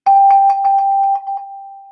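A handbell chime is rung in a quick series of bright metallic strikes, each with a steady ringing tone that lingers and fades alone after the last hit.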